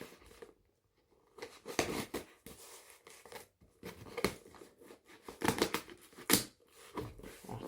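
Scissors snip and cut into a mail package at close range, giving a string of irregular crisp clicks, crinkles and tearing rustles with short pauses between bursts.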